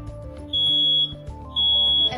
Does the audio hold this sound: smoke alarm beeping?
yes